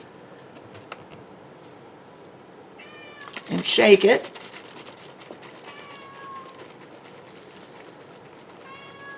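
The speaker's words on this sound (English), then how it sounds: "you hear my cat. My cat has got to be very vocal when I make my videos." A house cat meows a few times, short and fairly clear, while someone talks and makes soap at a kitchen table; a loud burst of shaking and rattling cuts in midway.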